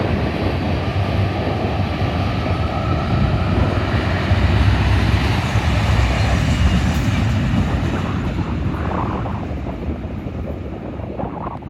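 A westbound freight train rumbles past at Oak Harbor, loud and close with a continuous roar of rolling wagons that eases slightly toward the end; no talking.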